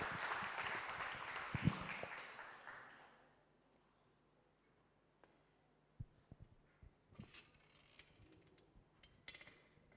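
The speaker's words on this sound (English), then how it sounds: "Please give them a round of applause." Audience at an international student summit applauding, a burst of clapping in the first few seconds that quickly dies away, followed by near silence broken by scattered clicks and knocks.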